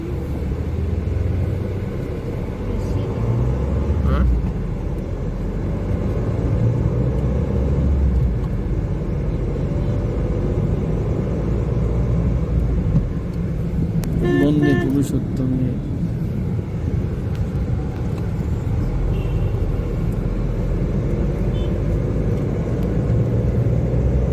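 Road traffic in the busy Kakdwip market area during the Bengali New Year crowds, a steady low engine rumble from passing vehicles with a brief higher mechanical whine midway and a constant dense hum throughout.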